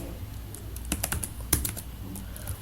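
Python code is typed on a computer keyboard in a quick, uneven burst of close, light key clicks, with one sharper keystroke near the middle.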